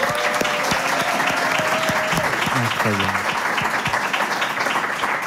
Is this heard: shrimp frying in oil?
no